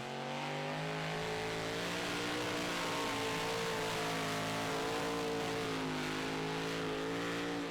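A super stock diesel truck engine roars under load during a truck pull, a sustained throttle-held rev with harmonics slowly climbing in pitch, heard from a distance over crowd noise.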